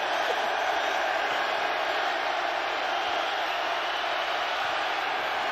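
Crowd at an XFL football game in Seattle, St. Louis Battlehawks against the Seattle Dragons, building during a field goal attempt: a sustained, loud, unbroken roar of the stadium audience, with a faint voice under it.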